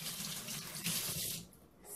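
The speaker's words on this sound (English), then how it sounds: "you gotta wash your hands every time you start your cooking anything" Water from a kitchen tap runs in a steady close rush while hands are washed beneath it, splashing evenly before the flow cuts off near the end.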